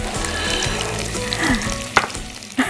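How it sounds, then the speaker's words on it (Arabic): Vegetables for Egyptian moussaka frying together in a pan, a steady close sizzle with a few clinks and a sharper splash-like crackle near the end, no voices. "انا عنديش خلق كله يتحمر مع بعض"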